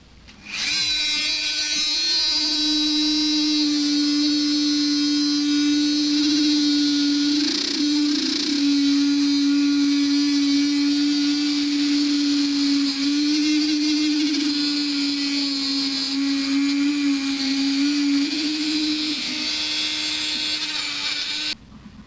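A Dremel rotary tool whines steadily at high speed for about twenty seconds while working on a Honda CB500 engine job, close and loud with slight pitch dips as it bites, no talking.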